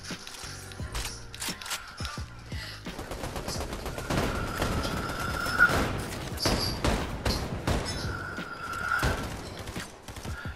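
Repeated bursts of gunfire from a Fortnite Chapter 5 match, with dense volleys of shots and a few louder peaks over about ten seconds.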